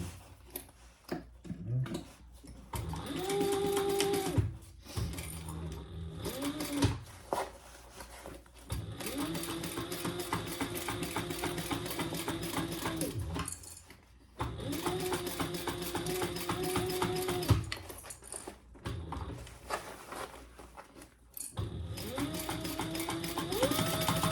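A sewing machine stitching a seam on a small traveler bag, running in several long steady whirring bursts separated by short pauses, close and fairly quiet.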